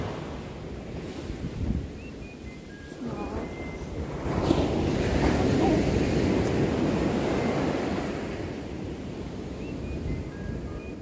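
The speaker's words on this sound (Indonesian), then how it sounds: "Ombaknya guys gede banget." Large ocean surf rolls and breaks on the shore near Fan Lau Fort, a steady roar that swells in the middle of the stretch, with gusty wind buffeting the microphone throughout.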